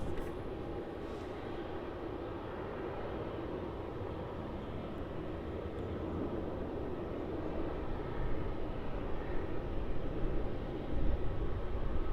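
A Jetstar Airbus A321, an older airframe built around 2016, taxis at Melbourne Airport, its engines giving a steady broad rumble that swells slightly toward the end.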